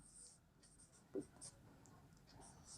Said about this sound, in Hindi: तो यहाँ हम लिखेंगे